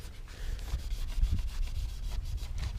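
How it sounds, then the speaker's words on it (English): Sticker residue being rubbed off a Hyundai Genesis Coupe with nail polish remover and a cloth, a soft steady scrubbing alone, close and quiet. "Try to clean up all the leftover sticker residue"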